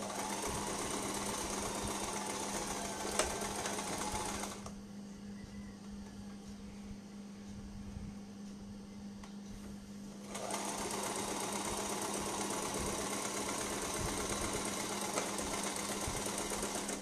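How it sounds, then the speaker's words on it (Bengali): A sewing machine stitches a baby frock, its steady hum running close and continuous, pausing for several seconds midway with low background noise before resuming. "দেখেন আমি কিন্তু এভাবে লম্বাভাবে ধরে টান করে সেলাই করে নিচ্ছি"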